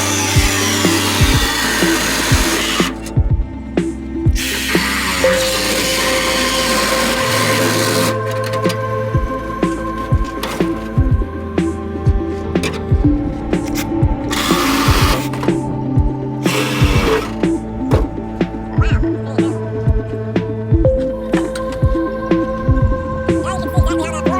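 Power tool cutting through a Bondo-covered Toyota minitruck bed, loud and close, in bursts of rattling, buzzing cuts broken by short pauses and clanks.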